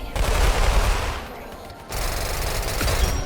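A Roblox gun game weapon fires rapid automatic bursts, a dense continuous rattle of shots that fades briefly and then resumes at full intensity.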